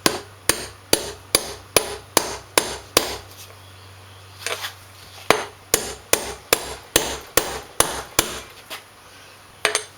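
Sharp, evenly spaced hammer blows on a socket drive a wheel bearing into a zero-turn mower wheel, two runs of about seven hits each separated by a short pause, loud and close.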